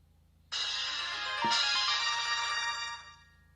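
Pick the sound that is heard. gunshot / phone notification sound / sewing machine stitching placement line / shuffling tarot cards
phone notification sound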